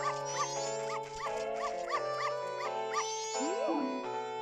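A deep, repeated dog bark from The Legend of Zelda: Majora's Mask 3D recurs in a steady rhythm over the game's music, with a rising whine near the end.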